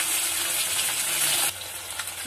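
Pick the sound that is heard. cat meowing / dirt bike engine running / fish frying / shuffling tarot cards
fish frying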